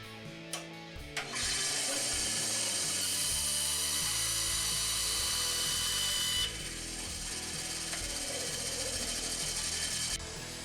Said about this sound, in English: So let's go over to the bandsaw and cut these babies short.